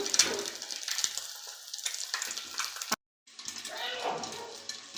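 Whole boiled eggs frying in hot oil give a steady sizzling crackle that runs nearly throughout, broken by a brief silent gap, with the frying resuming afterward.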